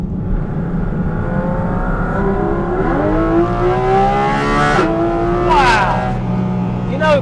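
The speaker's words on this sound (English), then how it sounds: "as it hits the red line, there's that metallic kind of, it's a metallic noise that you get" A Porsche Cayman GT4 RS flat-six climbs steadily through the revs to the red line with a hard metallic edge, then snaps through quick upshifts, loud and close from the cabin over constant road rumble.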